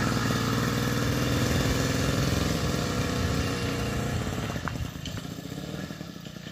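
An 80cc motorized bicycle engine runs loud and close, a steady buzzing two-stroke drone with clattering harmonics that rises as the bike accelerates, then eases slightly toward the end.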